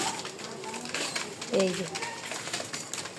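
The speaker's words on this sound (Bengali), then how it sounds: "এই যে খাবার দিচ্ছে ওর কবুতরগুলোকে।" Pigeons cooing and fluttering nearby while being fed, a short coo standing out midway over steady bird noise, with someone talking throughout.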